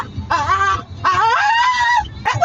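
A Staffordshire bull terrier makes funny, whiny vocal noises, two long wavering yelping moans up close, with a third starting at the end.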